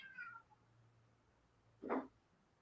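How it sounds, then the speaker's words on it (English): Two cats fight indoors, one letting out a short descending wail, then after a pause a sharp, loud yowling scream, both heard fairly close against a quiet background. "did you hear my cat screaming or was that just me?"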